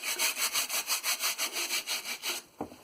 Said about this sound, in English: You can take a gentle nail brush, one that you don't use for your nails anymore,